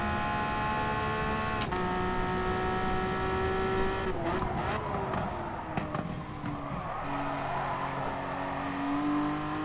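Race car engine in Gran Turismo Sport, revving and shifting through gears with a steady harmonic whine that climbs, drops and climbs again, loud and continuous with faint tire noise, no talk.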